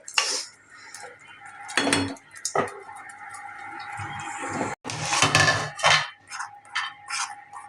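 Spoon scraping and clanking against a pot while masala is stirred for an Indian fish curry, with irregular metallic clinks and scrapes close by and a faint sizzle between strokes.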